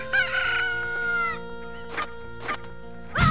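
Chickens in a Zelda game cluck and crow in a sharp, harmonic call followed by several short squawks, loud and close with no speech.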